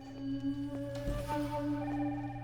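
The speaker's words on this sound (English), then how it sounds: "Oh, phone's ringing." A telephone ringing in the Red Steel video game, a steady electronic tone with harmonic overtones held throughout, moderately loud over a low background hum, with no voices.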